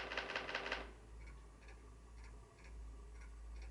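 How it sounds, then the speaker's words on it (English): A burst of rapid typewriter key clacks in the game Spirit Hunter NG, loud and quick at the start, then a few sparse, fainter taps over a low steady hum. "Typewriter."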